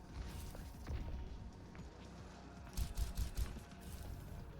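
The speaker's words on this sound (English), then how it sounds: "Then some warning shots." Warning gunshots in a competitive shooter match, a quick cluster of sharp low-pitched shots in rapid succession amid faint clicking game sounds.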